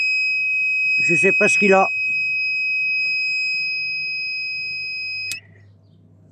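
A car's alarm, sounding on a flat battery, gives a steady high electronic tone that runs for several seconds and cuts off abruptly, with someone speaking French briefly over its start.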